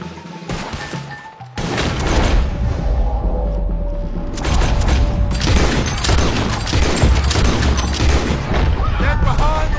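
Dense gunfire in Red Dead Redemption 2 during a wagon-pushing fight, a continuous loud barrage of shots and crashes with shouting voices mixed in throughout.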